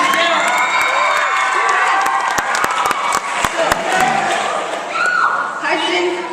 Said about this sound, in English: D, everybody, a round of applause.